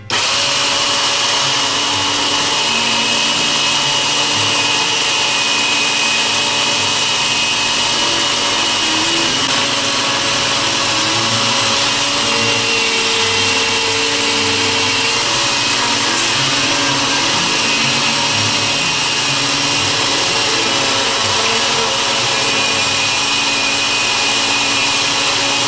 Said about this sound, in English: When you're using a ring saw of any kind, you want to let the blade do the cutting, not push too hard.